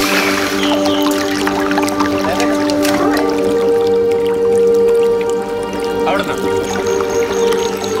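Water being scooped and poured from a forest stream on a trek near Thiruvananthapuram, with light drips and splashes close by over a steady background hum, continuous through the clip.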